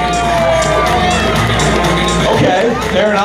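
Crowd cheering and whooping at a street drag race, a dense, loud roar of many voices with shouts rising throughout, steady from start to finish.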